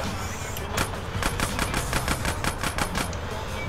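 Rapid gunfire aimed at a train in GTA San Andreas Definitive Edition crackles as a fast burst of close, evenly spaced shots over a rumbling engine drone, lasting a few seconds.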